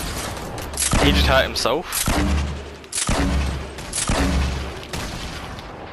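Grenade launcher rounds explode around a player in the video game Fortnite, a string of loud booming blasts spaced about a second apart, with a brief voice talking over the first ones.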